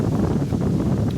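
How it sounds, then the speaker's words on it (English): Storm wind gusting around an RV in severe weather, a continuous loud roaring rush with rumbling buffeting against the microphone and no voices. "Here come the wind gusts."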